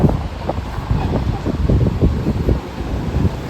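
Cold gusty mountain wind buffets the microphone in low rumbling bursts, steady and close, with no clear voices over it, in an apple orchard at Harsil, Uttarakhand.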